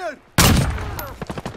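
Gunfire in the Modern Warfare video game breaks a near silence with a sharp, loud blast, followed by a decaying rumble and a quick string of closer shots cracking in rapid succession.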